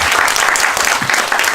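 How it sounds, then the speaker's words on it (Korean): Loud, close applause from an audience thanking a lecturer after a job-preparation talk for vocational high school students, with bursts of clapping that rise and fall slightly and no voices. "유익한 강연해 주신 김도현 사장님께 큰 박수 부탁드립니다"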